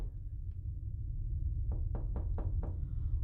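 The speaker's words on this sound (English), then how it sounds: "Did someone just do a fucking door knocking sound?" Five quick knocks on a door, evenly spaced and fairly crisp, sound after a stretch of low rumbling quiet, muffled like a recording played in a room.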